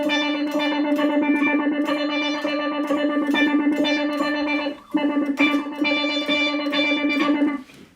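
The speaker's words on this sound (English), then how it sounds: "it sounds like the same note, just tremolos on there and some kind of not a pitch shifter, but a tone shifter going from highs to lows" Boss SY200 synthesizer pedal holding a single note with tremolo and a tone shifter, a pulsing, chorused tone whose brightness sweeps between highs and lows, with a brief cut before the note restarts.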